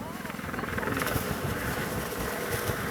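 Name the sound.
helicopters flying over Icelandic volcano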